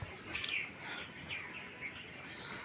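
Kaldum pigeons sit with their three chicks, giving a few soft, high chirps and cheeps that stay faint and close against quiet surroundings.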